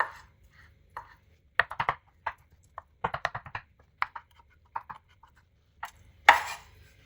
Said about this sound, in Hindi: अब इनके छोटे छोटे पीस कर लेंगे।